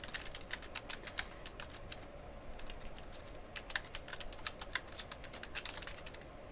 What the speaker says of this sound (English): after I finish typing everything